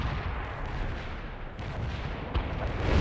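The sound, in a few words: artillery fire support in video game World in Conflict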